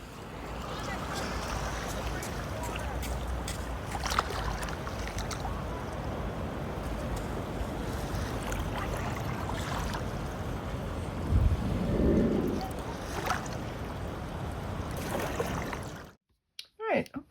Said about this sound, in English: hopefully you enjoyed some of that ocean sounds